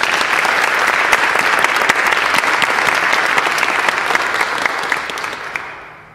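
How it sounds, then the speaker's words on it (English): Sustained audience applause at a recital honoring the accompanist, a dense even wash of many hands clapping at close range, steady for most of the stretch before tapering slightly at the end. "applause for my accompanist"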